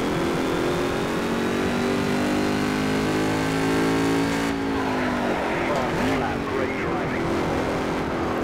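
A Ford Falcon Boss V8 racing at Bathurst in Project CARS, its engine roaring loud and close as it climbs through the revs, then easing off and shifting near the end.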